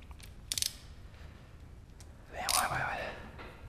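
A torque wrench clicks while a bolt is tightened on a Porsche 944 engine during an LS swap, with a few short sharp clicks and ratcheting mechanism sounds nearby.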